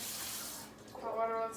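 Hot water runs from a kitchen tap into a sink, a steady broadband rush that drops away briefly before returning with a fuller, resonant filling tone, close and fairly quiet.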